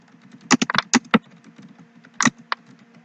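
A computer keyboard clatters in two short bursts of close, crisp keystrokes with a pause between, typing text into a Hangul word processor document.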